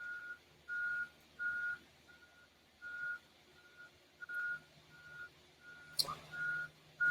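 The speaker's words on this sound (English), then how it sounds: "We've got a lot of traffic around here today." Truck reversing beeps in a busy library parking lot, a regular series of faint, distant tones with a low traffic hum beneath and a short sharp clatter near the end.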